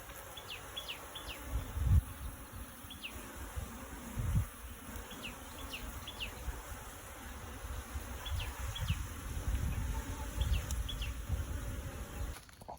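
Honey bees buzz steadily in a soft, continuous drone, with faint chirps and occasional low bumps in the background.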